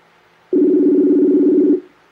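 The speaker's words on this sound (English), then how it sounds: "It's ringing." A single loud, steady electronic ring from a Facebook voice call plays for about a second and a quarter, beginning sharply from near silence and ending with a quick fade, with no voices.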